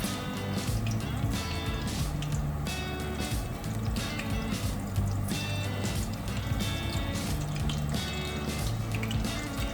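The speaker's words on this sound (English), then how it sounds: "So, fry them little by little." Sweet potato tempura frying a few pieces at a time in hot oil, giving a steady dense sizzle and bubbling that continues throughout with no speech.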